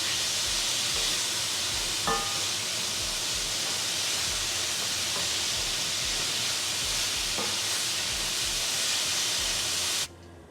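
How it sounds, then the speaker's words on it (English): Vegetables sautéing in a hot pan for beef stew, a steady loud broadband sizzle and hiss running continuously with a few faint clinks, cutting off abruptly at the end. "I am going to saute these for a few minutes"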